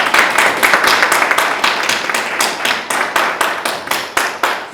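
Applause at an awards ceremony for a job-idea competition team, a steady run of fairly close hand claps with distinct individual claps in a loose rhythm, no talking.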